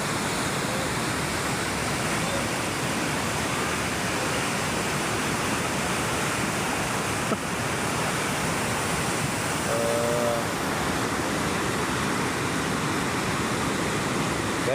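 Flood water rushes in a loud, steady broadband roar with no letup after heavy rain, close and overwhelming, like a torrent surging past.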